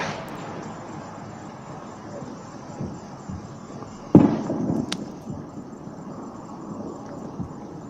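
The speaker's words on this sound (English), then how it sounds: "There's fireworks going off" A single sharp firework pop cracks out midway, followed by a fainter bang and some crackle, set against steady wind noise and low background murmur.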